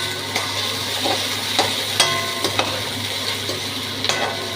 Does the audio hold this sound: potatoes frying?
yes